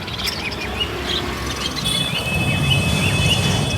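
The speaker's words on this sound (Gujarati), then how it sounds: "ચકલી છે આ હે" Sparrows chirping at a pet cage shop, several light tweets and squeaks over a constant loud hum of background noise.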